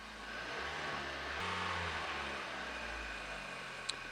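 A Hyundai ix35 engine idles after its in-tank fuel filter has been replaced, a faint low steady hum with slight rises in pitch, quiet and without talk.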